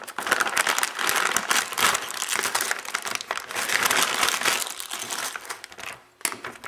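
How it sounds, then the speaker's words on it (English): A LEGO set box is pried open by hand, producing continuous loud crinkling and cardboard rustling up close, with a brief pause near the end before a final crackle. "I'm not going to cut it and open it, but rather just pry it open."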